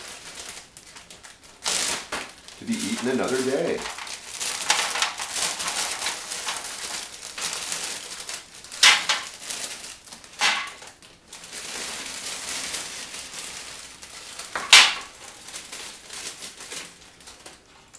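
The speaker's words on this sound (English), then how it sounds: "now we've gotten these strawberries out of the freezer, and they are ready to go into our plastic bag" Frozen strawberries from a Simi Valley strawberry truck tipped into a plastic bag, giving crisp crinkling rustles and hard clattering bursts, with a louder crackle near the end and a brief spoken line.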